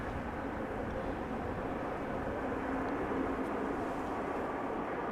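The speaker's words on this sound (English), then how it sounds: "Airbus A300 just landed, arriving from London Heathrow, 29 years old" A 29-year-old Airbus A300 landing at Amsterdam Schiphol after a flight from London Heathrow gives off a soft, distant, continuous engine rumble that stays fairly even throughout.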